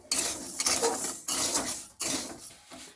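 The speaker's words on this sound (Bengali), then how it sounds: "আমি এই চিনিটাকে এবার কড়ার মধ্যে দিয়ে দেবো" Sugar is tipped into a metal wok (kadai) for orange candy, making three close bursts of gritty, metallic rattling and scraping separated by short gaps.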